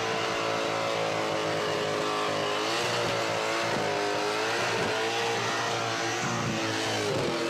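A drag racing car's engine roars continuously at high revs during a burnout competition at Red CentreNATS in Alice Springs, pitch wavering up and down as the throttle is worked, loud and close with no commentary over it.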